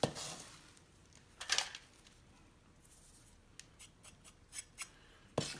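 Kitchen scissors cutting beef into rough pieces for fajitas, with close, crisp snips in bursts, first a couple of isolated cuts, then a quicker run of about six snips and a final one.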